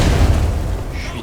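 A grenade blast in the game Black Mesa lands as a loud, deep rumbling boom that fills the moment and fades gradually over about a second.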